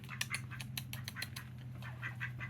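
Several ducks quack in quick, repeated bursts while being given cat food, the calls overlapping in a busy, moderately close chatter over a low steady hum.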